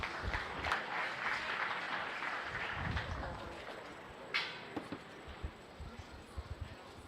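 Crowd applause at a county fair beef steer show, a sustained spread of clapping that thins into scattered claps, with a voice and arena noise underneath.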